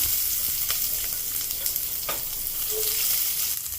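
Chopped onion dropped into hot oil with cumin seeds, frying in a pan with a dense, continuous sizzle, small crackles and a few stirring clatters close by.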